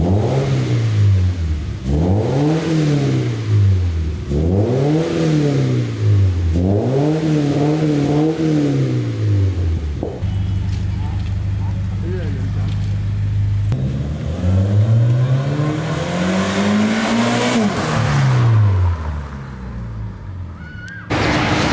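A Subaru BRZ fitted with an aftermarket axle-back exhaust revs repeatedly in rising and falling sweeps, loud and close, then settles into a steady idle before one more long rev climbs and drops.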